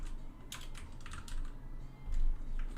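Rapid keystrokes on a computer keyboard, a few close clicking bursts of typing over a low background hum, with no talking.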